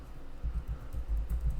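Computer keyboard typing while signing in with GitHub credentials, a short run of soft, irregular key taps, fairly close and quiet, with no speech.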